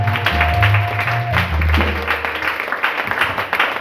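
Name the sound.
congregation applauding for the Lord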